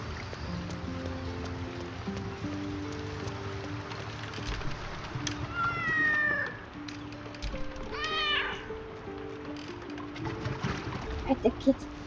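A cat in the video game Baldur's Gate 3 meows a few times, short rising cries midway over a soft music bed, with speech present and a faint watery ambience.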